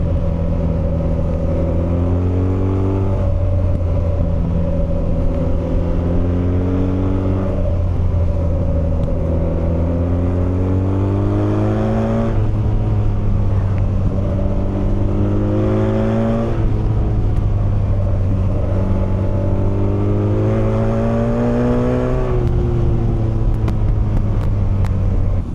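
A 2026 BMW R12 G/S motorcycle engine rumbles close and loud, repeatedly winding up in pitch and dropping back as it revs through the range, with no talk over it.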